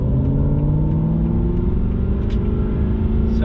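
An Aston Martin V8 Vantage revs in first gear, staying below 4,000 RPM: a loud, close, steady engine drone with a deep rumble, continuous and with no talk over it.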